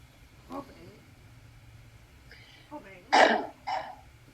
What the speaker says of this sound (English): that cough is disgusting.